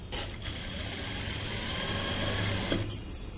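A sewing machine stitches a lehenga, its motor running in a steady continuous whir with a light rattle, starting and stopping briefly near the ends, close and moderately loud.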